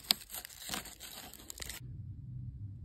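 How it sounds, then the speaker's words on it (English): Scissors slice through insulated flexible ventilation ducting in a few close, crisp crinkling cuts with tearing rustle over about two seconds, then the snipping stops and only a low room hum remains. "This stuff's really easy to cut with scissors, right there."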